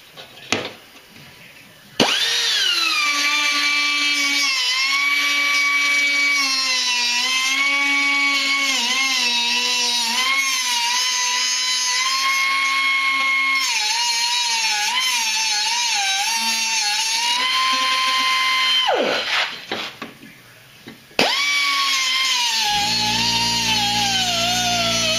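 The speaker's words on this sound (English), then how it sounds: "Some sort of sanding device" A power sanding tool works the scored edge of a board, its loud steady whine with shifting pitch running continuously for most of the stretch, dropping out briefly near the end before starting up again.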